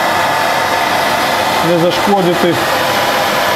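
A household hair dryer roars without a break while melting ice in a no-frost refrigerator. Someone talks briefly over the close, steady airflow.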